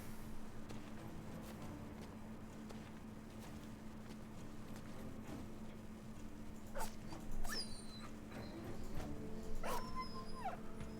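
A wounded dog in the video game Battle Brothers gives several short whimpers and yips in the later half, rising above a low steady game ambience.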